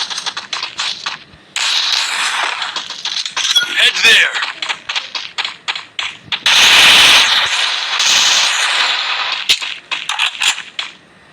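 Rapid bursts of MP5 submachine gun fire in the Free Fire video game, loud and continuous with short pauses, mixed with metallic clinks and other game effects.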